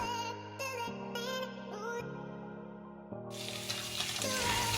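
Pabda fish fry in hot oil, a hissing sizzle that swells up toward the end, with music playing before and beneath it.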